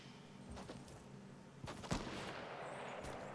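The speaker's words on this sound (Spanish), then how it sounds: "Está disparando a alguien, pero no le veo." Gunfire in Fortnite echoes at a distance, a few scattered muffled shots over steady game ambience, with no speech.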